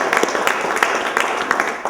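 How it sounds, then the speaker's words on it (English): Scattered hand clapping from a crowd at a press conference, a run of quick claps lasting about two seconds, mixed with voices talking. "Eric Winalda, give him a round of applause."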